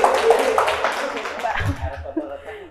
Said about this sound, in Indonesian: Tepuk tangan lagi buat Pak Yuri.